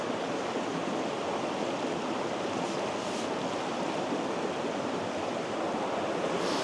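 A small creek tributary feeding a river system flows steadily nearby, a continuous even rush and babble of water with no voices, holding constant through the whole stretch.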